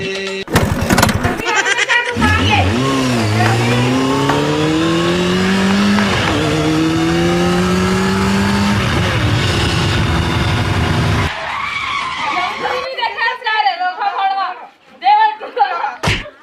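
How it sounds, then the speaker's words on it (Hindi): A vehicle engine starts and revs into a rising, whining drive with changing pitch, loud and close, followed by a quieter stretch with people talking over the end. "अब भी गाड़ी चालू कर"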